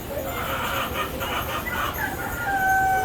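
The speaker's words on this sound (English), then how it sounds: "Beautiful chickens" Chickens cluck in a series of short soft bursts at a state FFA convention poultry show, followed by a thin high bird call, against steady hall noise.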